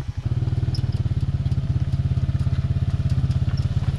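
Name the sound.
quad engine braking on descent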